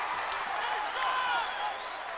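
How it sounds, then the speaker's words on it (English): A capacity wrestling crowd roars and cheers for Shawn Michaels in a big arena, a dense continuous wash of distant cheering with a commentator talking over it. "Shawn Michaels really bringing this capacity crowd alive"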